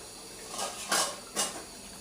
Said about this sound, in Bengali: এখন ডাকনা দিয়ে ঢেকে রাখবো